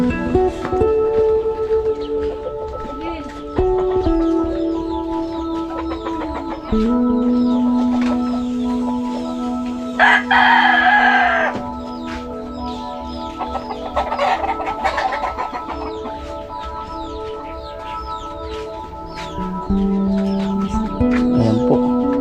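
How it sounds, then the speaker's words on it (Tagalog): A rooster clucks repeatedly throughout and crows in a loud burst partway through, with more crowing and clucking after, close and over background noise. "Maingay daw yung manok eh,"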